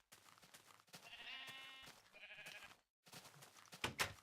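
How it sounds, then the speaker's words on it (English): Sheep bleating in a pen in a building video game, several close, quiet bleats in a row, then a short pause and one more brief call. "The sheep are trying to get out."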